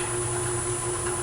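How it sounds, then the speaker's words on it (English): A rotary tool running with a round-tip double-cut carbide burr, a steady close high-pitched whine with a constant hum underneath, no pauses. "I'm using a round tip, double cut, carbide burr."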